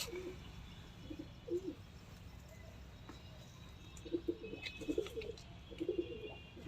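Soft, low pigeon coos repeat in short phrases against quiet background noise, growing more frequent toward the end.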